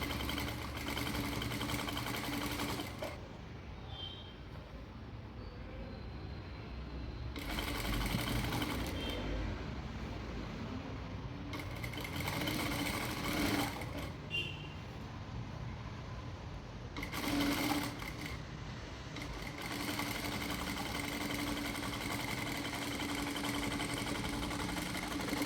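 Sewing machine stitching a churidar, running in loud rapid bursts separated by brief pauses, close up with a steady mechanical chatter and no talking.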